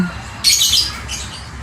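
Male lovebird in training giving a sharp burst of bright chirps and squawks close up, a short loud flurry followed by a fainter second call.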